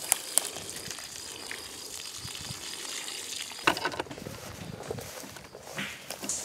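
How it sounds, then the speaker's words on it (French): Water from a solar-powered pump flows out at a modest rate, a steady gushing splash with occasional knocks and clatters nearby and no voices. "on voit que le débit il n'est pas énorme, c'est pas comme l'eau du robinet quoi"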